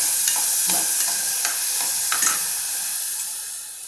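Dry grains scraping and rattling in a pan under a steady sizzling hiss, with light stirring strokes every so often; close and fairly loud, no voices.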